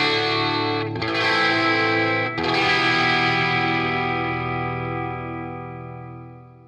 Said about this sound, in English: This is just a basic sound through the Cloudlifter Z itself.